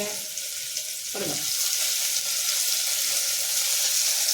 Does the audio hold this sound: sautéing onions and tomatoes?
yes